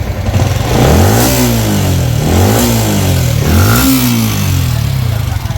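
A Yamaha Sniper 155 motorcycle with a noisy, worn rocker arm and cam setup revs hard toward 7,000 RPM, three loud rising-and-falling engine sweeps heard up close.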